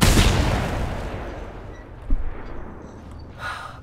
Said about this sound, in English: I threw it away and shot my shotgun